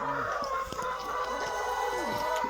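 Young hens just starting to lay eggs cluck steadily and close by, a busy flock chatter running throughout with a few sharper calls rising over it.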